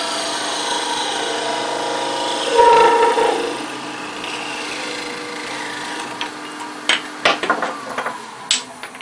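A wood lathe spins steadily while a tool parts off a turned wooden peg person, with a humming motor tone, a brief louder cutting swell, then scattered clicks and knocks near the end.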